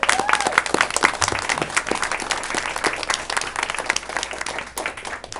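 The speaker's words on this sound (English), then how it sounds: "So a big round of applause to you all." Applause for schoolchildren after their presentation at a school board meeting, dense steady clapping from a room of people that continues throughout, moderately loud, with faint voices underneath.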